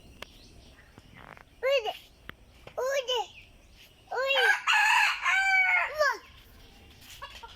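A rooster crows and chickens squawk in a few loud bursts, with quiet pauses between them and a longer stretch of calls near the middle, the birds perched up in a tree.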